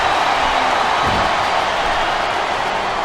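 A wrestling arena crowd in the WWE SmackDown vs Raw 2008 game keeps up a steady, dense roar of murmuring and cheering, loud and unbroken throughout.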